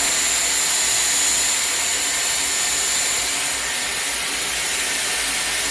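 A Dyson hair dryer runs continuously, producing a loud, even, airy whoosh that holds steady without any voices.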